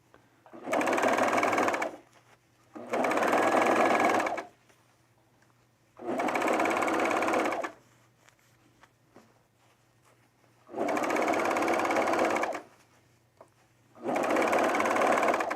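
A sewing machine stitches a sleeve onto an overshirt retrofitted from a button-down, running in five steady bursts of about two seconds each, separated by short quiet pauses.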